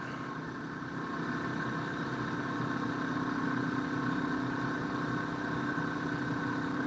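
A homemade pulse motor runs at 12 volts close to 2,000 RPM, giving a steady, even whirring hum with a constant tone that holds at moderate loudness throughout, with no voices.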